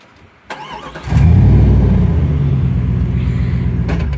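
A Jeep ZJ engine catches and then settles into a loud, steady close-up rumble as it moves forward while towing another Jeep ZJ.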